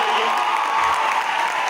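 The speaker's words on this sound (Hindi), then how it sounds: "फहीम खान सर के लिए एक बार जोरदार ताली होना चाहिए" Broadband applause from a live audience at a Hindi-language business event, steady and continuous clapping throughout, dense and fairly loud with a faint crowd murmur underneath.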